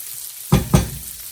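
Vegetable stir fry in a hot pan sizzling just after teriyaki sauce is added, two sharp bursts of hissing and stirring close up, then a low simmer.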